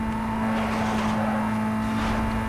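Lexus race car in Need for Speed Most Wanted launching hard from the start with wheelspin, a steady loud engine drone with a strong constant tone, close and continuous, with no talk.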